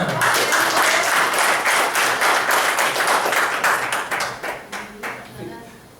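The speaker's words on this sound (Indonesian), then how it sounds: "Kita kasih aplaus dulu." An indoor audience at a talk gives a round of applause, dense steady clapping from many hands that thins into scattered individual claps toward the end.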